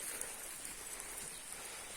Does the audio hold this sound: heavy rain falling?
yes